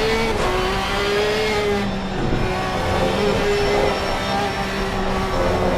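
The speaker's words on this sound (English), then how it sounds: "love hearing all the different engines" Several GT race car engines, a Porsche among them, roar continuously at Indianapolis, with high revving tones rising and falling as cars pass through a corner, loud and steady under faint commentary.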